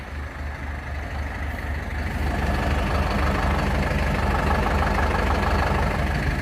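A tractor engine idles steadily while warming up on a frozen day, a continuous low rumble with a throbbing rhythm that holds close and fairly loud throughout, with no voices.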